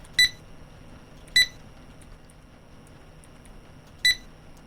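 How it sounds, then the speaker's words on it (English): Loud electronic beeps from the horror game Dread X Collection 5: We Never Left, three sharp piercing tones separated by pauses over a quiet hum. "That beeps very fucking loud"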